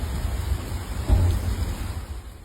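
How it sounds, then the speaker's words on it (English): Steady rain falls during a flash flood on a flooded Chicago street, a dense even patter with a low rumbling swell around the middle, and no voices. "still raining"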